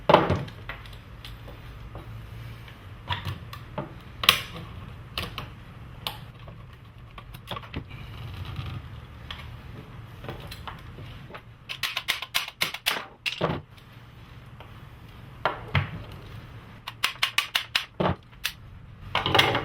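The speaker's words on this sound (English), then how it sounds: "Gotta use an Allen wrench" Metal tool clicks and clatters while an Allen wrench works at the case of a Wayne-Dalton i-Drive garage door opener, with scattered taps and quick rattling bursts, close up and without talk.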